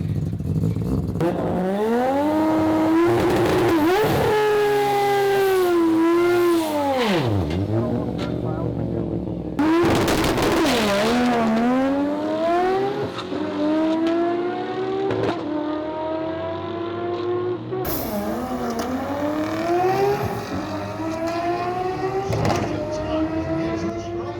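Three-rotor Mazda RX-7 launching and accelerating through gears, a loud rising engine wail cut by distinct gear shifts, each pull climbing sharply in pitch. The engine is close and dominant, with a brief vocal-like sound at times.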